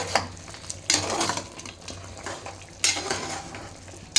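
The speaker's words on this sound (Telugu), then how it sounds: "అంతా వేసి బాగా మిక్స్ చేసుకుందాం" Spice powder being stirred into chicken fry in a pan, with a spoon scraping and turning the pieces in a few bursts over a faint sizzle, close by and with no talking.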